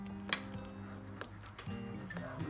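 Custard cream filling being stirred with milk in a bowl, giving soft scraping and occasional light clinks of a utensil against the bowl, close and fairly quiet, with no talking.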